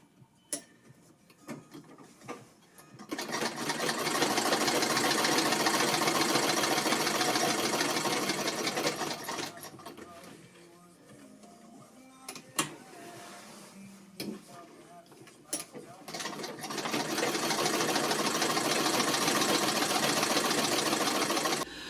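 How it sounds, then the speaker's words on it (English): A treadle-powered Singer sewing machine zigzag-stitches through three layers of a circular quilted rug. It whirs in two long, steady runs, with a pause of scattered clicks and shuffling between them. "So this is how I'm going to keep on sewing until the whole thing is sewed."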